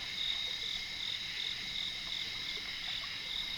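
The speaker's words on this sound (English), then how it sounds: "we heard that frog, it's probably frogs jumping in" Frogs croak by a forest creek at night in the Daniel Boone National Forest, a steady high chorus running evenly throughout, moderately distant and faint, alone with no talk over it.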